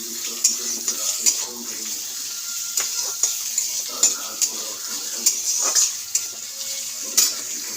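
Vegetables frying in a pan with onion, then carrot added, a soft steady sizzle broken by repeated utensil knocks and scrapes, with brief quiet talk.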